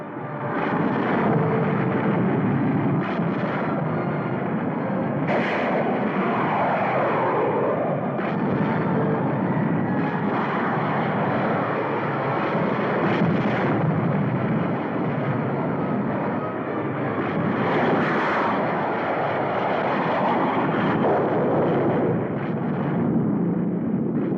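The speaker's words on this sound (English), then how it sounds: "Enemy jets attacking dam." Enemy jet aircraft attack a dam in a 1952 Cold War civil defense film: a loud, unbroken roar of engines and blasts fills the whole stretch, with heavy rumbling and no clear pauses.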